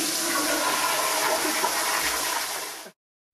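A low-flow toilet flushes in one loud continuous rush of water for nearly three seconds, then cuts off abruptly into silence.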